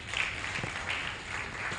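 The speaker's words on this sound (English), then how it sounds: "I think they deserve a round of applause." A short burst of even, moderate audience applause at a school quiz competition event, sustained briefly with no talking over it.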